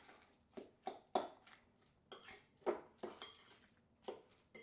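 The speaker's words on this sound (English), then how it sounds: "I'm going to give this a quick stir just to mix it up" Guacamole stirred in a bowl in a home kitchen, a run of separate clinks and scrapes of a utensil against the bowl, about a dozen fairly close knocks with short pauses between them.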